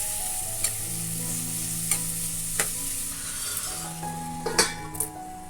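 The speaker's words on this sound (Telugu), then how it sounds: "2 ఉల్లిపాయలు వేసుకుని వేయించుకోవాలి." Onions fry with a pinch of salt in a pan, a soft steady sizzle broken by a few sharp clinks of a spoon stirring against the metal.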